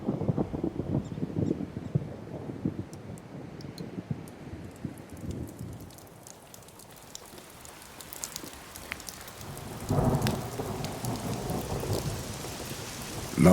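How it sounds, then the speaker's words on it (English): A thunderstorm on the prairie: steady rain patters on the ground while thunder rolls and rumbles, swelling loud again near the end. "Long-awaited rain flows from the summits, depositing fine clay particles on the plains."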